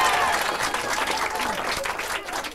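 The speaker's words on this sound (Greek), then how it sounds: "παρακαλώ, χειροκρότημα, πιο δυνατά" A 1992 Greek TV studio audience applauds loudly and densely, with crowd noise throughout and voices talking over the clapping.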